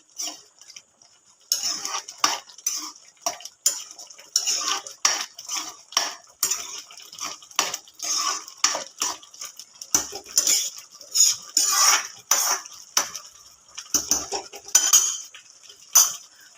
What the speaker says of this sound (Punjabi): ਸੂਜੀ ਵਿੱਚ ਪਾ ਕੇ ਨਾਲ ਦੀ ਨਾਲ ਹੀ ਆਪਾਂ ਇਹਨੂੰ ਹਿਲਾ ਦੇਣਾ